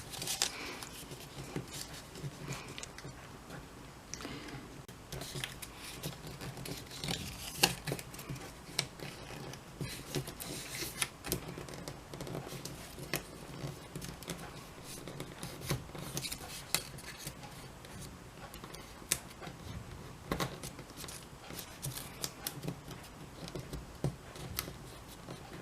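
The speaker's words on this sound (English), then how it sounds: "I want to punch the holes for my other signatures" Paper signatures for a Christmas journal are punched with holes: a quiet, steady run of scratchy, crunching pokes and rustles through the paper, with no talking.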